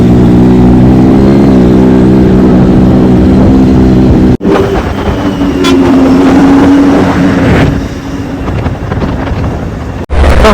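Motorcycle engine idling after a battery and self-start problem, a loud close rumble with steady low harmonics, then rough wind buffeting and shifting engine noise, cut by two sharp breaks.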